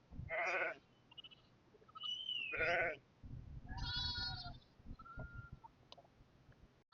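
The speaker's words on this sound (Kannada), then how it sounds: "ಮರಿಗಳನ್ನೆಲ್ಲ ಆ ಕಡೆ ಬಿಟ್ಟು ಕುರಿಗಳನ್ನ ಹೊಡ್ಕೊಂಡು ಹೋಗ್ತಾರೆ" Sheep and lambs bleat on a farm, several separate calls close by, some drawn out and wavering, with quieter background bleats and rustle between them.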